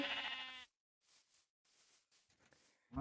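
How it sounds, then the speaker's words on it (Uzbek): A Minecraft sheep gives a clear, loud bleat at the start, followed by quiet game ambience with light footsteps and a second brief bleat cutting in at the very end. "bitta qo'y va bu yerda ikkinchisi"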